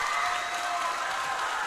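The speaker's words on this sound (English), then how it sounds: "EJC crowd are happy with that shot." Crowd at a school basketball semi-final between Eunoia Junior College and Hwa Chong Institution applauding a made shot, a dense, continuous wash of clapping and cheering heard from a distance.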